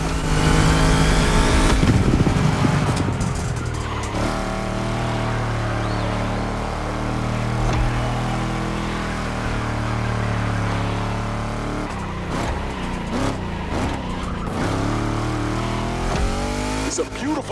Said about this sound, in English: Riders, hear these engines.